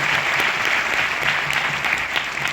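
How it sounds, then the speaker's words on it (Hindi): An audience at a business event breaks into loud, dense applause, many hands clapping together at a steady level across the whole moment with no gaps. "जोरदार तालियां होना चाहिए।"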